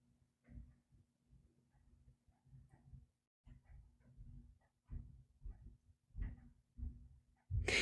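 A dog gives a run of soft whimpers and low, muffled yips in short bursts with pauses between, faint and close in a quiet room, ending in a louder burst.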